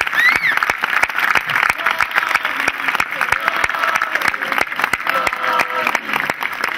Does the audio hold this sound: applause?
yes